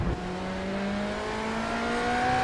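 A sportscar at the Fuji Grand Prix in a racing video game, stuck in third and unable to shift, its engine holding a steady drone whose pitch climbs slowly and never drops for a gear change.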